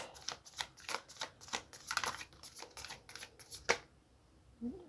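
A deck of tarot cards shuffled by hand, a rapid series of crisp riffling snaps close up that stops abruptly near the end, leaving quiet.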